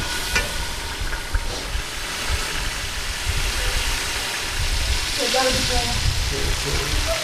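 Salt and red chillies fry in a pan while being stirred for a restaurant-style white daal mash, giving a steady sizzling hiss with scraping stir sounds and a low hum underneath.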